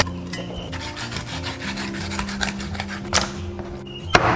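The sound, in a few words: knife filleting fish along the backbone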